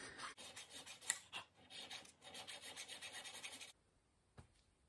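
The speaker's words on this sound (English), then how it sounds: "I'm gonna make a new flat spot on it." A metal file rasps a new flat spot onto the stem of a Moen 1222 faucet cartridge in quick, close back-and-forth strokes, the rubbing stopping abruptly near the end with one brief scrape after.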